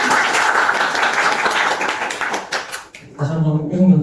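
Seminar attendees at a law firm's corporate-law practice event give a big round of applause for two lawyers. The dense, continuous clapping fills the room for nearly three seconds before a voice takes over.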